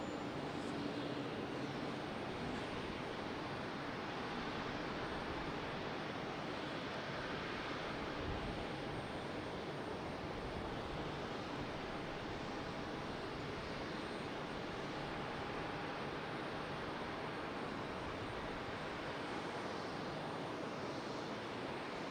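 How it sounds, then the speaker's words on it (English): An American Airlines Airbus A321 landing at Charlotte Douglas International produces a steady, broad engine roar that stays even and moderately distant throughout, with no voices. "Got another A321 landing now."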